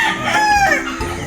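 A rooster among a flock of backyard chickens crows once, loud and close, a short full cock-a-doodle-doo with no talking over it.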